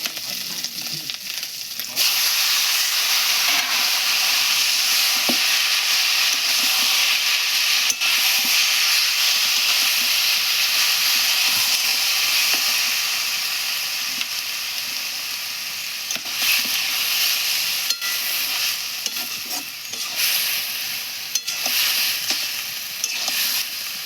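Spices fry in a hot pan over a home kitchen stove, giving a loud, continuous sizzling hiss with occasional stirring scrapes and small crackles, sustained for a long stretch with no one talking.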